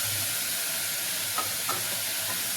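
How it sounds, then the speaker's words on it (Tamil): Steady sizzling and frying of tomatoes and small onions in a pressure cooker, a continuous hiss with a couple of brief clinks from stirring. "இதெல்லாம் சேர்த்து நம்ம ஒரு 2 நிமிஷம் வதக்கி வைக்கணும்."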